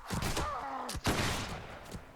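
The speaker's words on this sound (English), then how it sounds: "The bullets are flying." Scattered gunfire in Mount & Blade: Warband, a few sharp shots cracking amid a busy battle din, moderately loud, with a low groaning sound mixed in.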